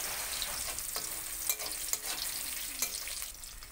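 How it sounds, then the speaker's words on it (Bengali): Homemade biulir dal bori frying in a pan, with a soft continuous sizzle and a few sharp scrapes and taps as a spoon stirs them. "দিয়ে একটু নাড়াচাড়া করে নেব"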